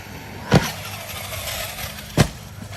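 Battery-powered RC car fitted with four drive shafts running outdoors, with a steady whirring drive sound and two sharp, louder thumps roughly a second and a half apart.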